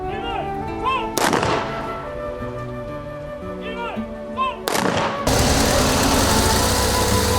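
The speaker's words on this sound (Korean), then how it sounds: "21발의 예포와 함께 끝났습니다" Cannon blasts of a 21-gun salute at a state funeral ring out as sharp, loud booms, two reports spaced several seconds apart, over a continuous crowd and ambient murmur with a steady roar following.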